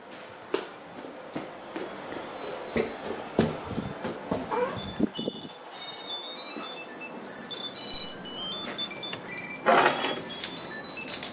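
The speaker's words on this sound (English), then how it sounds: "you can just click find and that will ring your keys, as you can see in this demonstration" A Tile key finder rings the keys after a tap in the phone app: a loud, repeating electronic melody of bright beeps that starts about halfway through, following a stretch of clicks and handling noise.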